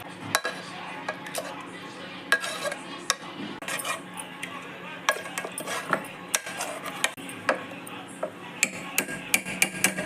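Boiled green peas are mashed with a masher in a pan for masala poori, producing irregular metallic clinks and scraping knocks against the pan, close and moderately loud.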